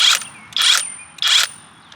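A cordless 1/2-inch drive impact wrench rated 800 ft-lbs, running counterclockwise at full power to loosen a nut, gives three loud, close, rapid hammering bursts of about a third of a second each, evenly spaced, with no talk.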